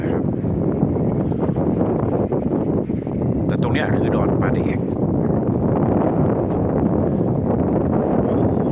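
Strong, steady wind roars into the microphone on the bank of the Mekong River at Nakhon Phanom in the first cold-season wind, a continuous loud rumble across the whole stretch, with someone talking over it.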